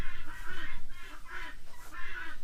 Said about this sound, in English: We ended up getting a couple of turkeys.